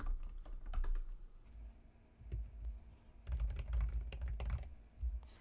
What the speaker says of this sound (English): So first I'm going to type in tiara.